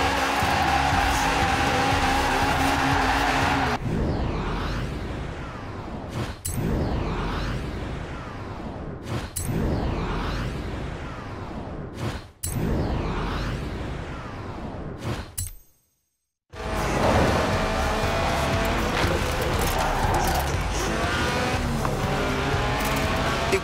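A light car of under 700 kilos with a 190-horsepower 1.8-litre engine revving to 8,000 RPM in Forza Horizon 4, screaming continuously with abrupt gear-change cuts, tire squeal and a brief silent gap.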